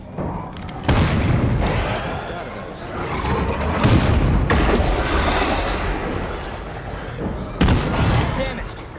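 Several heavy booms burst in the game State of Decay 2 in a Lethal Zone, loud thuds striking around one, four and seven and a half seconds amid continuous rumbling combat noise, with a voice talking throughout.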